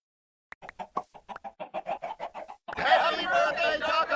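A Minecraft chicken from the Cobblemon mod clucks in a quick run of about fifteen short, evenly spaced clucks, followed by a burst of denser mixed game noise.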